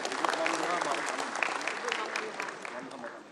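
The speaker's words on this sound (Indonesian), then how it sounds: "Tepuk tangan dulu untuk Gubernur Jambi kita." An audience applauds the governor of Jambi at a party anniversary ceremony, steady dense clapping from a crowd across the whole stretch with a faint voice underneath, fading slightly at the end.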